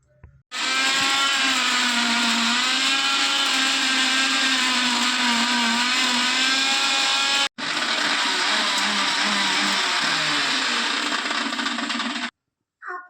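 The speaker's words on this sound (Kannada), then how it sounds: "ಒಂದು ಚಿಕ್ಕ ಮಿಕ್ಸಿ ಜಾರಲ್ಲಿ ಹಾಕಿ ಪುಡಿನ ಮಾಡಿ ಇಟ್ಕೊಳ್ಳೋಣ" A small electric mixer grinder jar pulverises dry masala tea spices with a loud, high, whining motor roar that runs continuously, pauses for an instant midway, then resumes before switching off.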